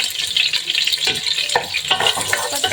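Chopped onions sauté in a hot pan with a loud, steady sizzle, broken by several scrapes and clatters as they are stirred close by, with no talk.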